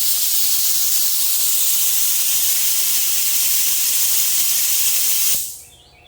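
SATA paint spray gun spraying with compressed air for a 1966 Ford Bronco restoration, a loud steady hiss for about five seconds that cuts off abruptly, leaving a faint tail.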